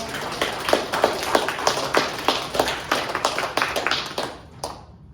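A small audience at a performance and conversation event claps steadily for about four and a half seconds, the sharp individual claps distinct and close, before the applause stops abruptly.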